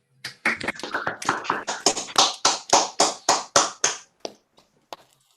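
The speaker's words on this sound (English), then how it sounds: "Everyone, let's unmute and we'll do a round of applause." Scattered hands from an online seminar audience clap in a quick, uneven round of applause over an unmuted call, loud and close at first, then thinning to a few last claps and fading out.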